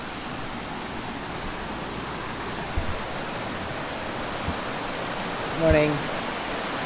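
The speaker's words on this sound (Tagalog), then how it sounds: "Katabi pala namin yung ilog dito." A river flowing beside a campsite in Real, Quezon makes a steady, close rushing roar throughout, with a brief spoken word near the end.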